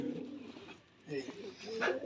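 Giribaz pigeons on a Rajshahi farm give a few soft, close coos in brief bursts, with a short lull in the middle, while a voice talks over them.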